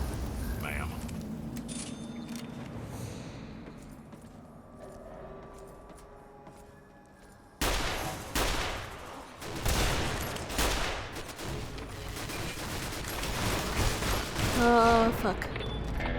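Turret gunfire in the game Fallout, bursts of rapid automatic shots and booms that swell loud in the second half over a game soundscape, with someone talking at times.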